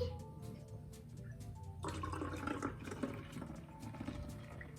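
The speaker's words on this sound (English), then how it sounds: "We're going to pour this into the bottle and we're going to see what happens." Liquid poured quickly into a bottle for an elephant toothpaste experiment, a soft splashing, gurgling wash that swells after a quieter start and keeps bubbling steadily at close range.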